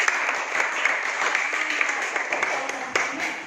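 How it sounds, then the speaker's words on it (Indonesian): A class applauds a student group after a presentation, with close, continuous clapping from a modest number of hands. A few sharper individual claps stand out over about three and a half seconds. "tepuk tangan untuk kelompok"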